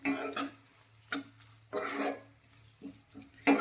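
Green garlic is stirred into mashed brinjal in a pan for a Gujarati bharthu, giving several short scraping bursts of spoon against metal separated by quiet gaps.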